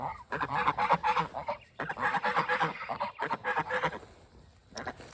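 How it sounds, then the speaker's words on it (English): A flock of geese honks loudly and raucously in overlapping bursts, close by, with a brief lull before the clamor resumes and tapers off. "they certainly make a lot of noise"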